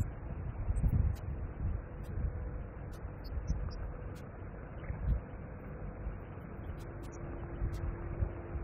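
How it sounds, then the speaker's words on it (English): Nagging wind gusting by a river during fly fishing for grayling, a steady low rumbling buffet with stronger gusts now and then, continuous and close. "A nagging wind."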